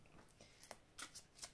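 Oracle cards shuffled and drawn from a deck during a tarot-style reading, a few quiet riffling snaps and flicks in short bursts, close and soft.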